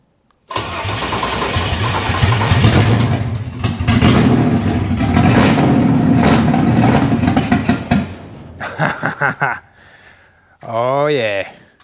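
A Ford Barra engine on a Holley carburettor cranks and fires up loud and close, runs rough for several seconds, then cuts out into a few sputtering catches before a voice breaks in near the end.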